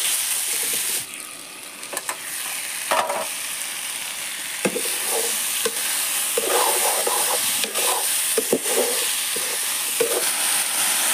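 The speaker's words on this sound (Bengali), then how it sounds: "ভাজি ভাজি।" Vegetables frying in a kadai, a steady loud sizzle and hiss with occasional stirring scrapes and clinks throughout.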